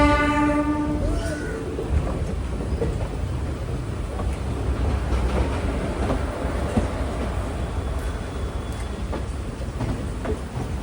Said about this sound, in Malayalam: ഇത് ചെന്നൈയിലേക്ക് പോകുന്ന ഇന്റർസിറ്റി ആണ്